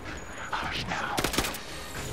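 Bursts of video game gunfire crackle in quick rapid volleys, several sharp shots clustered together over a busy background, with a voice speaking faintly underneath.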